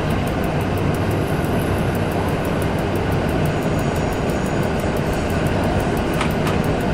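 An EN57 electric multiple unit of Koleje Mazowieckie runs in the SimRail train simulator, with a steady, loud rolling rumble and a broadband hum that continue without a break.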